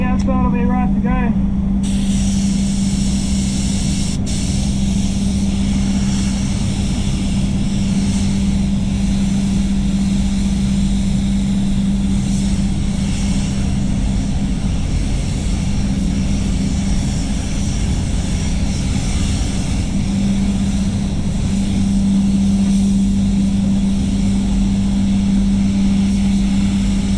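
A spray gun applies paint to a Peugeot 3008 in a body shop, its compressed-air hiss and steady hum running nearly unbroken for close to half a minute, with a person speaking intermittently over it.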